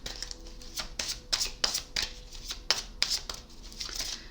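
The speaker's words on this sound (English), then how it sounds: "While I shuffle," Tarot cards are shuffled by hand, a run of quick crisp riffles and slaps repeating at a steady, uneven rhythm, close and clear with no talk over it.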